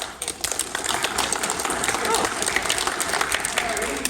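Steady applause from a crowd at a video game community showcase fills the whole stretch, dense clapping with some voices mixed in underneath.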